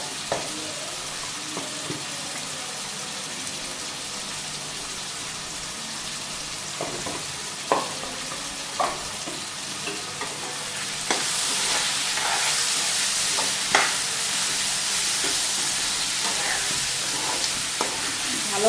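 Spices such as cumin, coriander, turmeric and chili powder sizzle and fry in a pan, a steady close crackle with occasional sharp pops, growing louder and hissier partway through.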